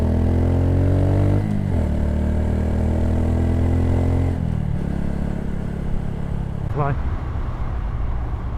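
A Honda C125 Super Cub fitted with a Yoshimura exhaust downshifts, its steady close engine drone dropping in pitch at two gear changes and then settling into a rougher, lower note.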